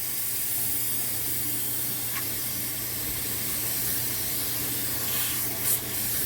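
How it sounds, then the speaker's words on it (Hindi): Pressurized nitrogen escaping from a split AC indoor unit as its lock is opened, a steady loud broadband hiss held throughout with a low hum underneath. "जब भी आप इंडोर के लॉक खोलते हो तो इस तरह के एयर प्रेशर का आवाज़ ज़रूर आना चाहिए।"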